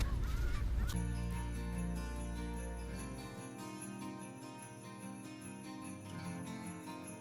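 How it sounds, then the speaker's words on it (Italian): Seagulls at the sea, giving loud, nasal, honking cries in a short cluster that then trail off into softer calls against a faint background. "Gabbiani, guarda i seagull"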